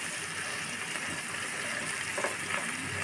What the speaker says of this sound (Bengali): দিয়ে দেব আদা রসুন পেস্ট আর একটু পেস্ট কুচি দিয়ে আমি একটু সময় নিয়ে হালকা একটু সময় নিয়ে ভাজবো